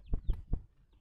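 A caged sandgrouse, a wild desert bird from the Iraqi open country, gives three short, clucking calls in quick succession. The calls are close and fairly loud and then fade into near silence.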